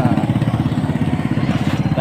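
A motorcycle engine runs close by with a steady, rapid, pulsing idle throb that holds even and loud throughout.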